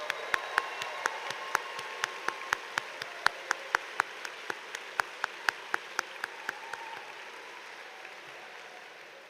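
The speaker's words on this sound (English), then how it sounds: "Please, a round of applause." Scattered applause at a spring university engineering commencement ceremony, a steady soft wash of clapping with distinct individual claps standing out, fading gradually toward the end.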